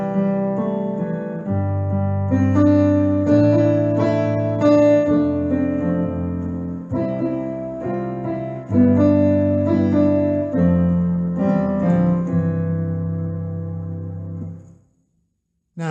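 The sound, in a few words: bass, fill and melody played together on keyboard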